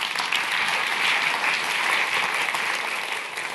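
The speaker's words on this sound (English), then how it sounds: "A round of applause for her, please." A tech festival audience at the Royal Institution applauds a speaker, a steady dense wash of clapping that holds evenly loud throughout and fades only slightly at the end.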